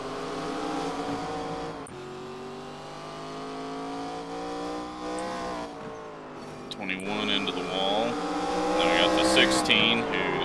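Engines of NASCAR ARCA Series stock cars roaring in iRacing at Irwindale Speedway, a sustained droning whine that climbs in pitch, with a wreck and tire squeal, under continuous commentary.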